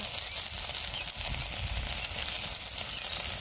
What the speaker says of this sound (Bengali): মশলাটাকে খুব ভালোভাবে কষিয়ে নিব